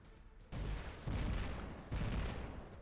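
Weapons fire in a mech video game as three heavy bursts of gunfire, each a loud sustained barrage that follows the one before, with no talk over them.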